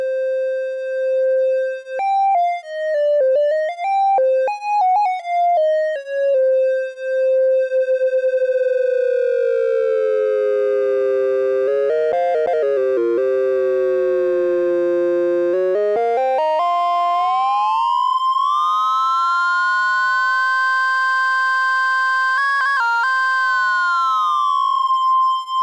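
Moog Messenger analog synthesizer with two triangle-wave oscillators: a smooth pure tone wobbles in pitch, then a second voice joins and slow sweeps beat and glide against each other. The sound is loud and steady with no voices.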